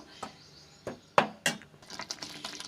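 Ridge gourd being stirred in a pan, giving a few soft scattered clinks and scrapes of a utensil against the metal, with one sharper knock near the middle, faint and close, with no voices.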